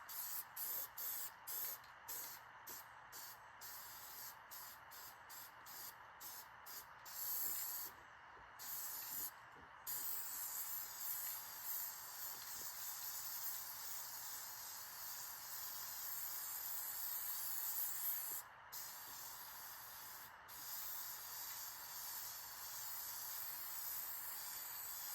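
Spray paint hisses onto a truck bed camper in a run of short bursts followed by longer sustained sprays, loud and close, with no one speaking.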